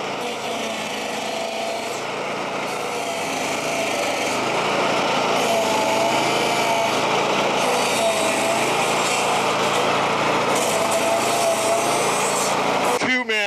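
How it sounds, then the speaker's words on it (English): A 15-horsepower stump grinder with its blade up front chews into a tree stump, a loud, steady engine drone with gritty grinding texture running continuously throughout, with a voice speaking over it. "the stump grinder wants to dig its way in"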